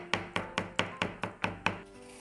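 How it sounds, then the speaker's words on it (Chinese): A kitchen knife mincing smashed garlic cloves and ginger strikes the cutting board seven times in an even, brisk rhythm, each chop crisp and close, with no voices. "先把它拍扁，然后切成姜蒜末"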